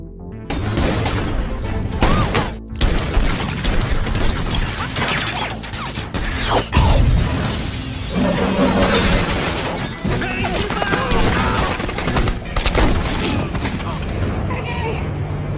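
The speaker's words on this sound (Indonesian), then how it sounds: "Sehingga baku tembak sengit tidak dapat lagi dihindari." Intense gunfight in an action film: dense bursts of gunfire, crashes and shattering impacts pile up over a loud, busy soundtrack, with a narrator talking over much of it.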